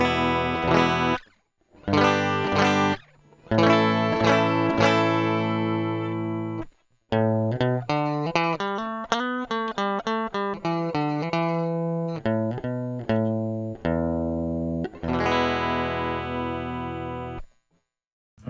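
An electric guitar's dry signal runs through a test rig of rare Canadian pedals, heard alone with no effect applied: a series of clear picked notes and strummed chords, with some sustained and others cut short by brief silences.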